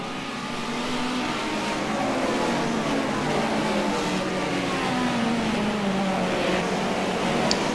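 Classic Hot Rods race at Cowdenbeath, engines droning and rising and falling as the cars circle the track at a distance, a continuous layered roar with no clear talk.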